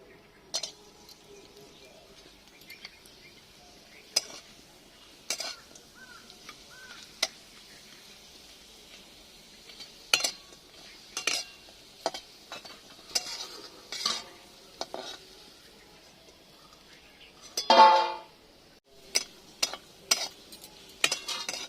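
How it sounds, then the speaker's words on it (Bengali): Papad fried in white oil in a hot wok, giving intermittent crackling sizzles with sharp clicks and scraping stirs, moderately close, with no talk. "দেখো পাঁপড়গুলো গরুর গাড়ির চাকার মতো দেখতে, এগুলো এবার ভেজে নিচ্ছি।"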